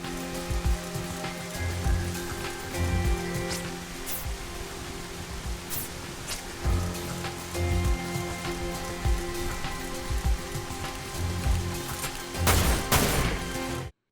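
Steady rain pours down in a deserted residential area of the Final Fantasy VII game, a dense, continuous hiss with scattered sharper patters and a faint tonal soundtrack beneath.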